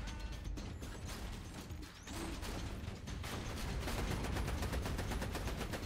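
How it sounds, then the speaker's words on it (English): In Borderlands 2, Axton's deployed turret fires continuously in a dense, mechanical rattling stream that stays steady and loud throughout, with no talk. "Okay, turret out."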